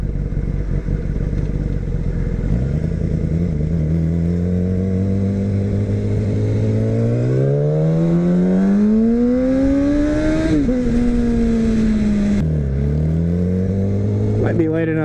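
A car engine under load while driving, revving and rising in pitch through long gear pulls, then dropping at a shift and climbing again; loud and close, running steadily throughout.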